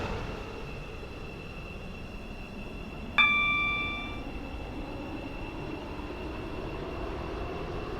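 A metro train in the Stepford County Railway game runs with a steady, even rumble, broken once midway by a sharp chime that rings and fades.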